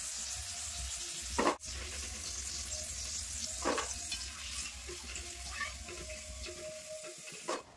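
Raw potato fingers frying in hot oil, a loud steady sizzle and crackle throughout, with a few brief sharp clatters of a utensil.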